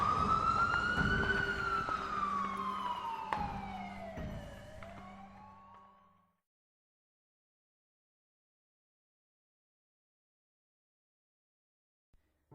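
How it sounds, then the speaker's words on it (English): A loud siren wails, its pitch rising then sweeping down, with engine rumble beneath; it cuts off abruptly, leaving silence. "the paramedic in the driver's seat turned on the siren and drove"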